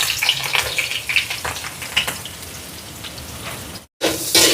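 Chopped garlic, onion and dried red chillies frying in hot oil, a bright crackling sizzle with a few stirring scrapes, loud and close, broken by a brief silent gap near the end.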